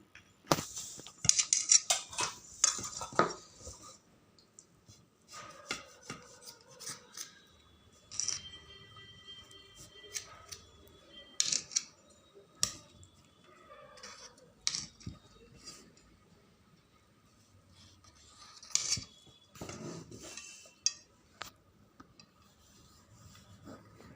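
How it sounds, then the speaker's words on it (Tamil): Irregular scraping and crunching strokes of a knife cutting through a crisp fried sweet corn cutlet, with sharp taps on a board between quieter pauses. "கட்லெட் ரெடி இப்போ நல்லா ஆறிடுச்சு இதை வந்து நம்ம கட் பண்ணு"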